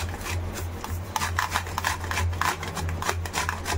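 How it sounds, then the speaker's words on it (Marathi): Unpeeled raw green mango is rubbed over a hand grater, producing a continuous rasping scrape with quick back-and-forth strokes, close and fairly loud over a low steady hum. "वरची साल न काढताच किसून घ्यायचं आहे अशा पद्धतीनं"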